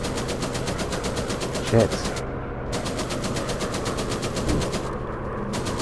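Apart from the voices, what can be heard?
bomber machine gun fire in video game War Planes WWI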